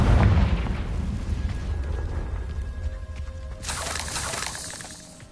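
A Confringo fire spell from Hogwarts Legacy detonates with a heavy, rumbling boom that slowly fades. A bright crackling burst of debris follows near the end, loud and close, with no talk.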